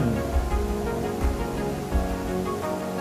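Steady, dense roar of Curug Luhur Cipinaha waterfall, a continuous broadband rush of falling water with slight surges, filling the scene with no talking.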